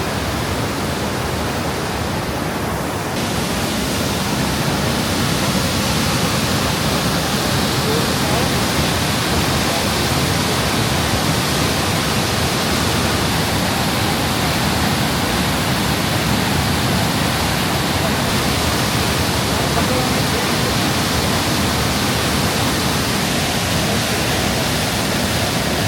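The Johnston Canyon waterfalls in Banff National Park, Alberta, give off a constant loud roar of rushing water that holds steady, broad and unbroken throughout.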